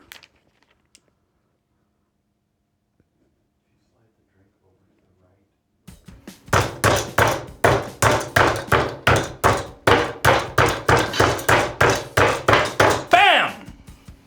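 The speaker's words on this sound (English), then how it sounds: "You just throw it in the mortar and grind it up with a pestle." Black pepper is pounded in a mortar with a pestle, giving a rapid, even series of about twenty sharp, loud thuds after several seconds of near silence.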